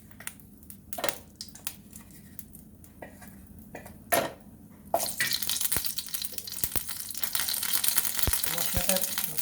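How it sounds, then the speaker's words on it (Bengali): Water poured into chili powder in a kitchen bowl runs in a splashing, trickling stream, preceded by a few scattered clinks of utensils and dishes before the flow grows louder and steady. "লঙ্কা গুঁড়োটার মধ্যে একটু জল দিয়ে দিচ্ছি"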